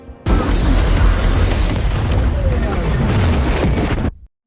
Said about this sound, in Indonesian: tiba-tiba saja tubuh Newt meledak sehingga membuat Major terpental dan tak sadarkan diri